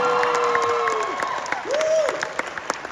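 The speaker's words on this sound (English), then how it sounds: "Give yourselves a round of applause." An audience at the Twin Cities Con 2023 fan convention claps in a dense, steady patter of applause, with a voice briefly rising above the crowd.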